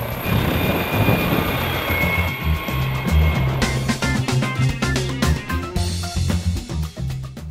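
Tour helicopter in Hong Kong preparing to take off, its steady engine whine and rotor chop loud and close, with the rhythmic beating growing more pronounced partway through.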